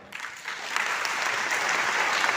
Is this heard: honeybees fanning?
no